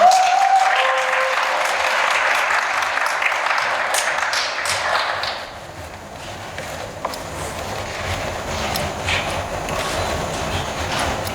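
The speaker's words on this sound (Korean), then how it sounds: "큰 박수로 맞이해주세요." Sustained applause from an audience at a Hangul Day speech contest as the next student speaker is welcomed to the stage, loud and dense at first, then thinning to scattered claps.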